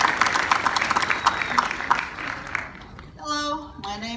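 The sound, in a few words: audience applause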